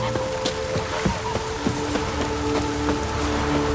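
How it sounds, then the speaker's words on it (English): Rain falls steadily in The Witcher 3, a dense, even patter of drops with scattered sharper taps on surfaces. Faint tonal game ambience runs underneath and no one speaks. "Oh, raining again."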